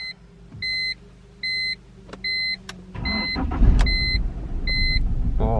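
A BMW 318i E46 Touring engine cranks and catches at about the three-second mark, then settles into a rough, uneven idle rumble. Before that, a few regular electronic chimes sound over a low hum.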